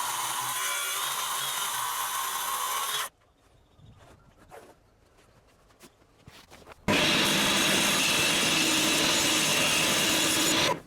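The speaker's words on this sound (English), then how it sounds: "I remember here that I have a track for my saw." A track saw rips through a sheet of lumbercore plywood, a loud steady cutting roar in two passes, each about three to four seconds long, with a quiet gap of faint handling and clicks between them.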